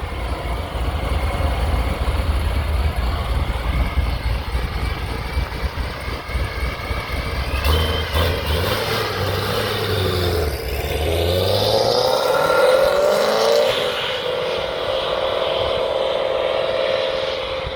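A supercharged 2016 Corvette Z06 approaches and roars past at speed, its pitch rising then sweeping down as it passes, with steady road noise throughout and no talking.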